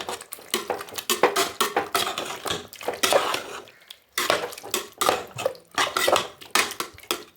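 A spoon or ladle scrapes and clinks against a pot while ginger-garlic paste and pepper powder are stirred in for a pressure-cooker chicken biryani, giving close, repeated clattering strokes with a brief pause midway.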